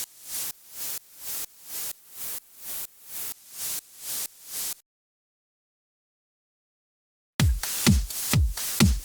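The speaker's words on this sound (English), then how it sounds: "lower the volume on the white noise layer until you can barely hear it" Rhythmic bursts of hissing white noise from a beat's loop layer pulse evenly, stop into silence, then return as heavier thumping noise pulses.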